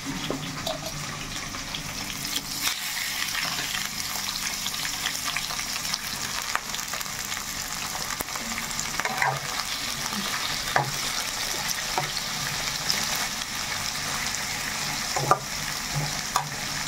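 Farm chicken pieces fry in a pan with a steady, close sizzle and crackle, cooked the old-fashioned way, with occasional stirring clatter throughout.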